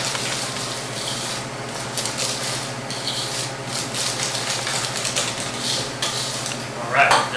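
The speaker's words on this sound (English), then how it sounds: "Whisk that together" A chocolate mixture for a flourless cake is whisked in a bowl, giving continuous close scraping and rubbing with rhythmic brushing strokes and a few light clinks near the end.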